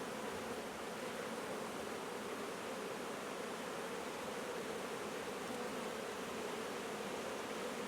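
Honey bees buzzing during a hive inspection, a dense, continuous hum of many insects close by, steady and fairly quiet with no pauses or speech.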